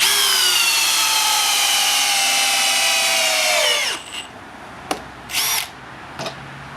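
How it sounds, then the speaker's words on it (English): Makita hammer drills, the 40V HP001G and the XPH07, drill steadily with a loud, high whine that winds down at about four seconds, followed by a few short clicks and one brief burst of spinning. "the top two Makita hammer drills, the new 40 volt HP001G and the classic, been around for donkey's years, XPH07"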